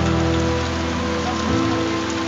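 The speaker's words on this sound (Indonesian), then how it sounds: "Mohon maaf lah ya. Hujan nih." Steady rain falls outdoors, a dense, continuous hiss of drops hitting surfaces, loud and close with no pauses and no voices.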